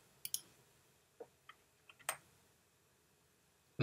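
Sparse computer keyboard keystrokes, a handful of separate sharp clicks spaced irregularly, close and quiet in an otherwise silent room.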